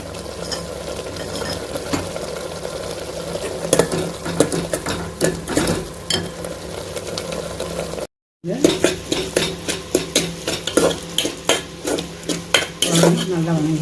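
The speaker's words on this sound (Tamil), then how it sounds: "வெங்காயத்தையும் தக்காளியும் சும்மா லைட்டாக ஓட்டி விடுங்க" Onions and tomatoes sautéed lightly in a pan for a bottle gourd and cowpea kuzhambu, with steady close scraping and clattering of a spoon against the pan and a brief break midway.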